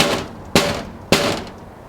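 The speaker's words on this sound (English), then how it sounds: "So if I bang it with a cricket ball," Two sharp, loud impacts of a cricket ball banging against a toughened glass pane on a small garden greenhouse, spaced about half a second apart, each with a brief ringing decay.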